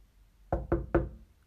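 Three quick, firm knocks on a door, close and dry, with a brief gap between each and quiet around them.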